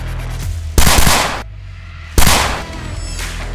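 Gunfire sound effect: two loud, sharp bursts of shots about a second and a half apart, each decaying into a roaring tail over a low hum.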